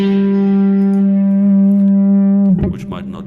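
Electric guitar run through a Kemper Profiler with a drive pedal engaged: one sustained, harmonically rich note rings steadily for about two and a half seconds, then gives way to a short burst of brighter picked notes.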